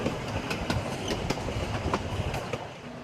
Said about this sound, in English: The narrow gauge track of this rail line allows the train to make the sharp corners of this steep canyon along the Urubamba River.